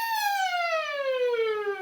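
A voice imitates an ambulance siren in one clear, loud sustained tone with rich harmonics that glides smoothly in pitch across the whole stretch, alone without talk.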